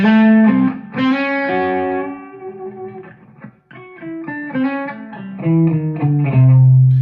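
A clean electric guitar playing a melodic phrase of picked notes and chords, clear and ringing with little distortion, with a short pause midway.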